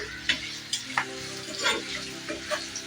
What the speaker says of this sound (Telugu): చూడండి బాగా ఫ్రై అయిపోయాయి కదా పచ్చిమిర్చి అన్నీ ఫ్రై అయ్యాయి